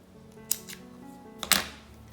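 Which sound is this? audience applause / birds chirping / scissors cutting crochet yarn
scissors cutting crochet yarn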